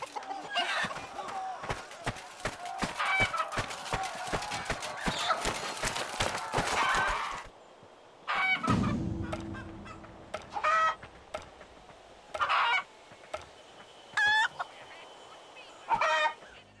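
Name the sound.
chicken noises replacing battle shouts in video game Chivalry 2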